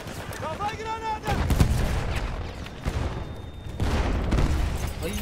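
Battlefield 1 gameplay with grenade blasts and heavy gunfire booming close by, a dense burst near the start followed by repeated loud detonations and shots, with a voice talking over the combat.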